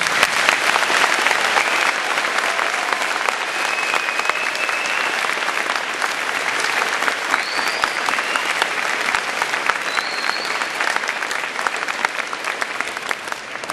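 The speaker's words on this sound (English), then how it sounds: "I'd like you to thank them with a round of applause." A Veterans Day 2010 tribute audience gives sustained applause for the color guard riders, dense, even clapping from many hands that stays loud and unbroken for the whole stretch, with a few faint whistles on top.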